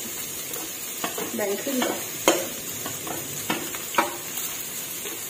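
Rice stir-fried with shrimp and egg in a pan for shrimp fried rice: close, steady sizzling broken by sharp scraping strokes of a spatula, with a brief voice speaking over it.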